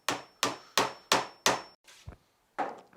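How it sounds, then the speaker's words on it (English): Five sharp, evenly spaced taps knock a wooden beehive lift back into place, each a loud, close woody knock with a short ringing tail, followed by a few softer handling bumps. "give it a little bit of a tap just to knock it back home again, just like that"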